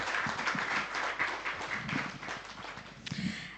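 A crowd applauds at the grand opening of the Vogue Jewellers store in Melbourne, with dense clapping close by that swells and then settles over a few seconds.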